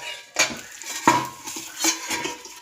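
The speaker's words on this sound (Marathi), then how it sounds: "आता ह्याच्यावर मी झाकण ठेवणार आहे." A lid is set on a frying pan while an omelette with green chili paste cooks, making a few sharp metallic clinks and clatters spaced over a couple of seconds against a quiet background.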